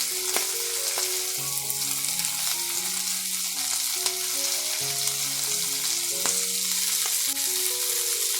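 Prawns with plenty of masala sizzling on a barbecue as they are flipped, a constant bright crackling fry over the full length, with faint tonal music running underneath and no talk.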